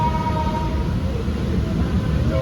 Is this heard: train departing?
yes